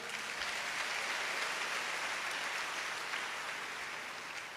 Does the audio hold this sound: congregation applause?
yes